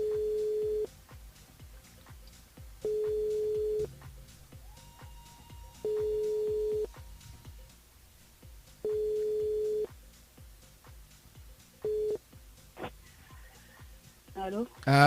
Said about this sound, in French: Allez, il appelle Brenda du côté de Tadidé.